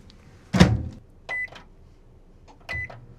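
A microwave oven in a compact new Isuzu Elf Mio-based cab-over camper with a 2000W inverter: a dull door thump, then two short electronic beeps in a quiet interior.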